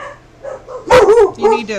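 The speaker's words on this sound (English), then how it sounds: "please excuse the barking" A dog barks and yips nearby in short sharp bursts, mixed in with a person talking.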